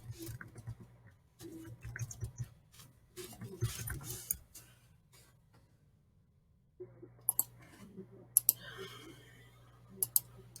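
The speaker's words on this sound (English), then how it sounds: "I'm going to type" Keys on a computer keyboard are typed in short bursts of quiet clicking with brief pauses between, ending in a few sharper isolated taps, all close and soft with no one talking.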